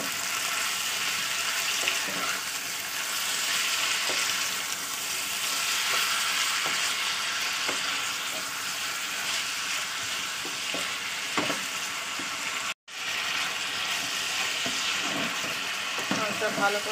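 Meat and onions fry in oil in a wok with loud, continuous close sizzling and intermittent stirring scrapes, broken by a brief drop to silence near the end before the frying resumes.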